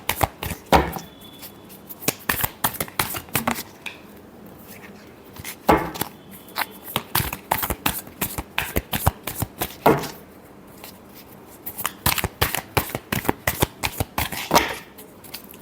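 Tarot cards are shuffled by hand in a long run of crisp, rapid riffling bursts with short pauses between them, close and fairly loud, with no talking.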